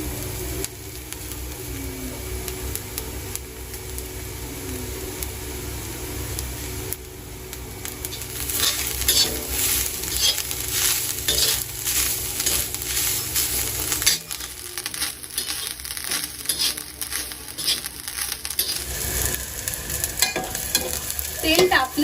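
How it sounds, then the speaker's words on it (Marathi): Onion and grated coconut stir-fried in a pan for a homemade masala, giving a steady close sizzle with repeated scraping strokes of the spoon that grow louder and busier partway through, with no talking. "कांदा आपला भाजून झालेला आहे त्यात आता मी खोबरं घालते"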